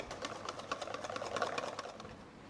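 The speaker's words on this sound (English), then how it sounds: "take 1/4 of your whipped cream, and we're going to whisk this vigorously" Whipped cream whisked vigorously by hand in a bowl while making a royal pistachio entremet, giving a fast, steady rhythmic clatter of whisk strokes at close range and moderate volume with no talking.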